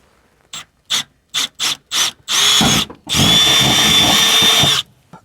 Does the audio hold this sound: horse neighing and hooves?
no